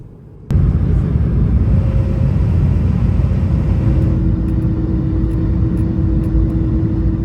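Inside an airBaltic airplane cabin during descent, a dense, steady engine and airflow rumble with a faint sustained tone starts abruptly and continues loud and unbroken.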